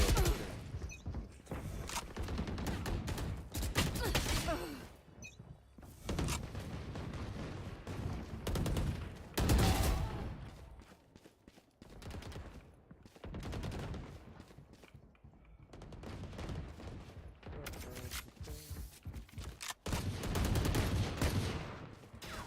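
Gunfire in the Fortnite video game during a Sentinels vs FaZe Collision event match, loud repeated bursts and rapid volleys coming in clusters with brief pauses, dense and close throughout.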